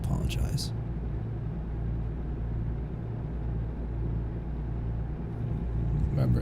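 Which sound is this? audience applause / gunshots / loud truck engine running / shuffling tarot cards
loud truck engine running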